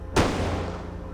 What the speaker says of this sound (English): The gunshot draws every soldier's attention.